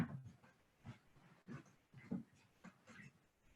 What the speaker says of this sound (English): you will hear the sounds of my dogs